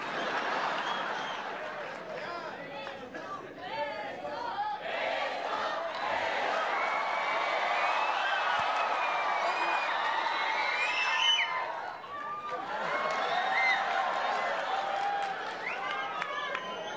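A live comedy-show audience applauding and cheering loudly and continuously, with shouts and whoops rising out of the crowd noise and a brief dip before it swells again.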